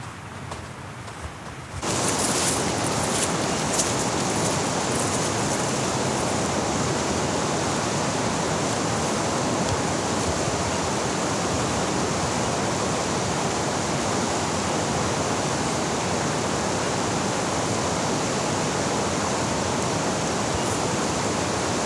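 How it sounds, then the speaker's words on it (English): Steady heavy rain pours down in Zion National Park, a dense, even hiss that begins abruptly after a quiet moment and continues loud and unbroken, with no voices. "spitting rain quite well"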